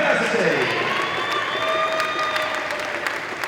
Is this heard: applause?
yes